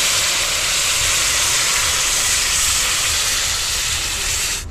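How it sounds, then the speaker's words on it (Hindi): Milk poured into a hot pan of semolina roasted until brown, raising a loud, steady broadband hiss and sizzle that holds without a break for several seconds before tapering off at the end. "अब इसमें डालते हैं दूध"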